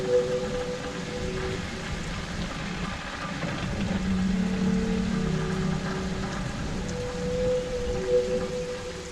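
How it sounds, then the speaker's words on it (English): Rain patters steadily during a ride on the Clafton aerial ropeway, a continuous wash of droplets over a low mechanical hum with faint whining tones from the moving cable car. "an unedited, rain-soaked ride on Clafton's aerial ropeway"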